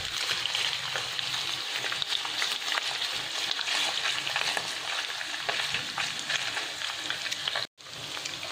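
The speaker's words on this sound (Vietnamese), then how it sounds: "Rồi mình sẽ cho sườn vào để mình chiên sơ" Steady, dense sizzling of pork ribs frying in hot oil over high heat, continuous crackle throughout with one brief break near the end, no talking.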